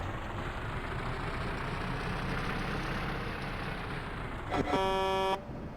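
A steady engine drone runs throughout, then a loud truck horn blares once near the end before cutting off, in the video game Truck & Logistics Simulator.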